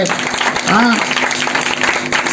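A crowd applauds at an outdoor religious gathering in Aurad taluka, Bidar district, with a steady wash of clapping as someone talks loudly over it.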